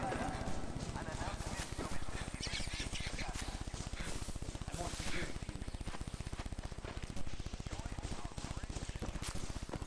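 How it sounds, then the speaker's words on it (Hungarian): Horse hooves clip-clop in Far Cry on PlayStation 5, a fast, even stream of hoofbeats that fills the whole stretch amid other game sounds. "Mert itt van egy ló."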